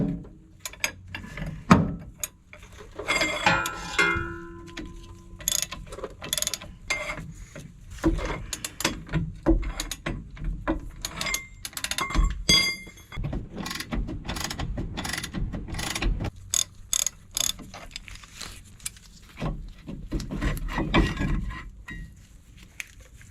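A half-inch drive ratchet with an 18 mm socket, plus an old jack handle used as a breaker bar, works on the rear brakes of a 2000 Chevrolet Silverado 1500, making close, rapid ratchet clicking in bursts mixed with metallic clanks and knocks.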